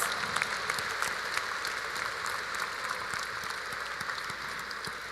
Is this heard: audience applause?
yes